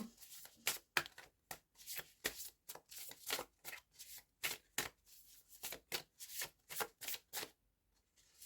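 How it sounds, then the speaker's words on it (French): Tarot cards shuffled and drawn during a horoscope reading, a run of crisp, close riffling bursts with short pauses between, fairly loud and alone without talk. "nous allons commencer par les énergies en tirant 3 cartes"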